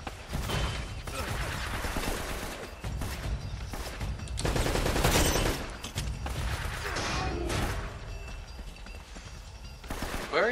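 Machine gun fire in Uncharted: Drake's Fortune, with loud sustained bursts of rapid automatic shots and heavier blasts rolling through a tunnel, pausing briefly between volleys.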